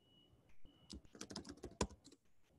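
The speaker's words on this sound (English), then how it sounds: "I'm just gonna be typing these" Typing on a computer keyboard during an online meeting, a quick irregular run of close, crisp key clicks with short pauses between bursts and no talking.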